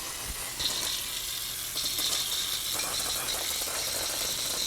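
Aerosol can of brake cleaner sputtering and spitting as it runs low while cleaning a gas-powered 2008 EZGO RXV golf cart, a steady hissing spray with uneven bursts, close to the microphone and with no talking.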